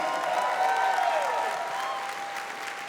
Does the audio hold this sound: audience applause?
yes